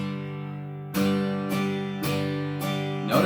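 Acoustic-sounding guitar strumming in a steady pattern, a sustained chord followed by four evenly spaced strums landing on the offbeats, close and clear.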